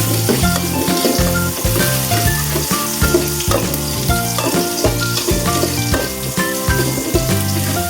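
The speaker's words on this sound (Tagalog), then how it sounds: "Halo-haloin mo lang guys. Para hanggang lumabas yung aroma." Pieces of pork sautéing for sinigang na baboy, stirred in a hot pan: loud, continuous sizzling and frying with rhythmic scraping of the utensil against the pan, close and without talk.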